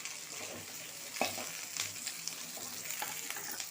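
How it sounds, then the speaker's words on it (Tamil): Cut yellow pumpkin pieces sauté in a pan for pumpkin soup, giving a soft, steady sizzle with occasional stirring scrapes and taps, fairly quiet and with no talking. "இதையெல்லாம் நல்லா வதங்கணும். ஓரளவுக்கு வதங்கி வந்ததும் கூடவே என்ன நீங்கள் நம்ம கட் பண்ணி வச்சுருக்க மஞ்சள் பூசணிக்காவை ஆட் பண்ணிடுங்க."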